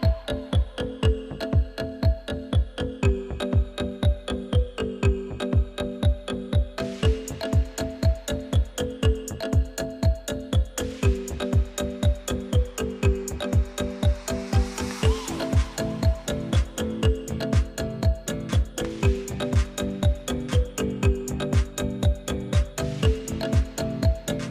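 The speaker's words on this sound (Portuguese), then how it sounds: "E agora vamos para a máquina de costura fechar estas caixinhas de leite." A sewing machine stitching pouches made from milk cartons, running in a steady, fast mechanical rhythm of needle strokes throughout, close and continuous, with a hum of motor tones under the rapid clatter.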